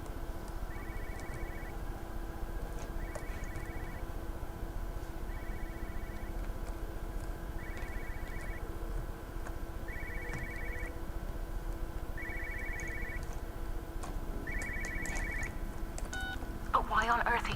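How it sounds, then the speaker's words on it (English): An in-game telephone in Everybody's Gone to the Rapture rings in seven short, evenly spaced bursts, about every two seconds, over a steady background hum with faint clicks. "The phone."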